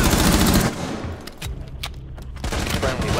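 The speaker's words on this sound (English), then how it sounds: "Bridge, Joel, you're gonna get shot" Rapid automatic gunfire in Rainbow Six Siege, loud dense bursts at the start and end with scattered single shots in between, and a voice faintly present.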